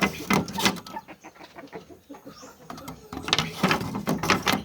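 Breeder hens of Shamo and Basilan gamefowl kept in a chicken farm pen, clucking and calling in overlapping bursts, with louder close flurries at the start and end and quieter scattered clucks between.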